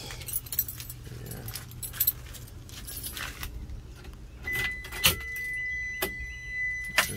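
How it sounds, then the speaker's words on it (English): Keys jangle in short clinking bursts near a 1997 Subaru Sambar camper van, followed by a steady electronic tone like a door chime, with a brief spoken word. "Keys."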